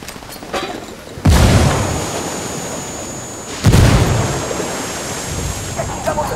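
Frag grenades exploding in Ghost Recon Wildlands, two loud close blasts a few seconds apart, each followed by a long rumbling decay over outdoor wind noise.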